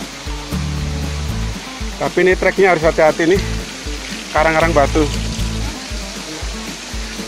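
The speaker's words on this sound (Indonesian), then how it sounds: "Air yang jatuh dari atas kayak air terjun kecil-kecilan tuh." Water falls from rocks like a small waterfall, a steady hiss along a rocky trail, with someone talking over it in two short bursts and footsteps thudding nearby.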